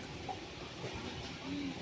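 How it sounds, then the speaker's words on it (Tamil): A Hazrat Nizamuddin Rajdhani Express runs alongside, heard from another moving train as a faint, steady rumbling wash of rail noise with soft hiss and no clear clacks. "இந்த ட்ரெயின் நம்ம கூடயே போயிட்டுருக்கு. அது என்ன ட்ரெயின்னா ஹசரத் நிசாமுதீன் ராஜ்தானி எக்ஸ்பிரஸ்ஸு."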